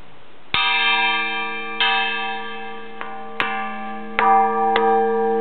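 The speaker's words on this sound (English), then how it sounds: "It's an electric engine which drives the bells." Electrically driven church bells ring inside the Karlshamn church tower, tuned to G, with six strikes at uneven intervals, each a loud, close metallic clang whose shimmering tone sustains and overlaps the next.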